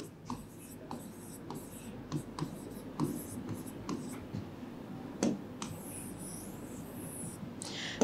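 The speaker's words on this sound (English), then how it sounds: "I will write this equation here." An economics equation is written out by hand, probably pen on paper, as faint close scratchy strokes with soft tapping ticks, quiet and intermittent over a low room hum.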